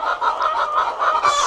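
Loud, close clucking from a hen in a nesting-box setting, a steady run of throaty repeated clucks with no talk over it.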